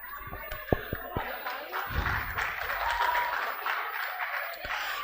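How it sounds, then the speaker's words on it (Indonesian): Audience applause at a law debate competition's closing ceremony: a few scattered claps first, then a moderate, steady round of clapping in a hall, with voices mixed in. "Berikan tepuk tangan yang meriah."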